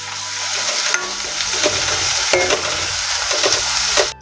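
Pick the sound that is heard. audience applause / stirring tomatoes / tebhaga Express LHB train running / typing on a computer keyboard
stirring tomatoes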